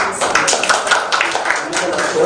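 Applause from an audience at a live tech meetup, a steady wash of clapping hands for a presenting team, fairly close and loud throughout.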